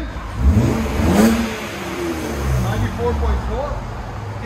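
A 1995 BMW M3 3.0-litre inline-six with dual exhaust and resonator delete revs hard, rising to a loud, raspy roar and then settling into a rumbling idle with repeated throttle blips.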